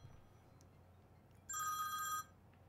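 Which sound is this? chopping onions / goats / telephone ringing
telephone ringing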